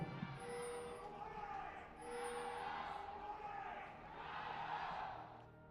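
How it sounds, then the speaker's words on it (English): Fans at a 2018 Asian Games League of Legends group match between China and Korea chant in rising and falling waves, faint and distant beneath a commentator's voice. "The crowd chants coming forth right there."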